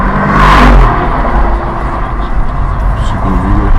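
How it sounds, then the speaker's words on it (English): A Mercedes CLS speeding past other traffic in the left lane on a Chicago-area highway, a loud close whoosh of engine and tyre roar that swells early and fades, over steady road noise with talking. "The Dorcas Gazelle in the Mercedes CLS will super speed past everyone else on the left lane"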